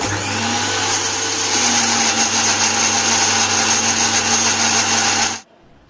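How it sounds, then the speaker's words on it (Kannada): A mixer grinder coarsely grinds Mexican mint (doddapatre) leaves into chutney, a loud, steady whirring motor drone that runs alone for over five seconds, then cuts off abruptly. "ಈಗ ನಾವು ಇದನ್ನ ತರಿ ತರಿಯಾಗಿ ಗ್ರೈಂಡ್ ಮಾಡ್ಕೊಳ್ಳೋಣ"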